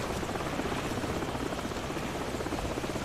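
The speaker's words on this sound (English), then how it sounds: "The helicopter's back." Steady, loud helicopter rotor noise in Call of Duty 4: Modern Warfare, a dense continuous whir filling the whole stretch without pause or voices.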